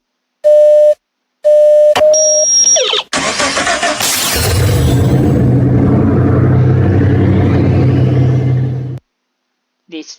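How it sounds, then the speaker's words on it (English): A DeLorean car starting up in Minecraft Bedrock: two electronic beeps, a quick mechanical click and whir, then a loud engine roar that holds steady before cutting off. "That startup sound will play every single time you jump inside of the vehicle"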